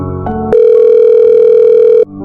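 A telephone tone sounds as a single steady, loud electronic beep held for about a second and a half in a comedy skit, with brief tonal bursts just before it and no talking.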